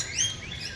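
Rainbow lorikeets chirp at a feeder, a quick burst of bright, high tweets close to the microphone over a faint background hum.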